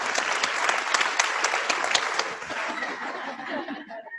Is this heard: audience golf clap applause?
yes